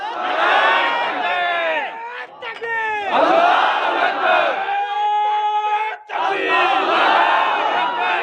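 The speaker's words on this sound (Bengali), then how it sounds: "তাকবীর দেন, তাকবীর দেন, তাকবীর দেন।" A large crowd at a Bangladeshi Islamic religious rally roars takbir chants in unison, loud and close, in repeated surging bursts separated by brief pauses.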